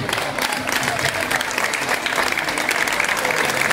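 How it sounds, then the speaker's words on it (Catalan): A crowd at a casting event applauds a knight and princess as they step out, with steady, vigorous clapping throughout and voices mixed in beneath. "Un fort aplaudiment per el cavaller i la princesa sortint."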